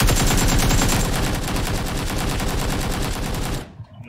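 Rapid automatic gunfire from a gun in the PUBG Lite game sounds as a dense, rhythmic burst of loud shots. It keeps up for several seconds, then cuts off abruptly into near silence.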